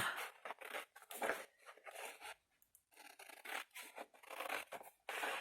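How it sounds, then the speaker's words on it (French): Scissors cut along an outline in paper for a craft project, a rapid series of close crisp snips and rustles with short pauses between bursts. "Maintenant, vous découpez sur le trait extérieur."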